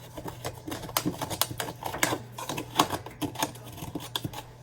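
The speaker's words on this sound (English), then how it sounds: "I just take a knife, usually a steak knife, and I just try to cut up the powder" A steak knife chops and scrapes through powder in a container, giving a run of quick, close, crisp tapping clicks in an uneven rhythm, fairly quiet and heard alone.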